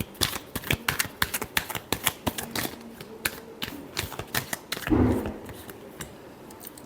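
Tarot cards are shuffled in a run of crisp, rapid clicks and riffles, close and dry, with a brief duller thump partway through before the clicking eases off.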